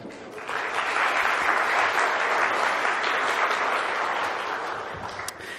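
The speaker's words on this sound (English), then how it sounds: "So help me give them another round of applause and welcome." A conference audience applauds to welcome a speaker before a talk on security vulnerabilities, a dense, steady round of clapping that holds for several seconds at an even level before tapering slightly at the end.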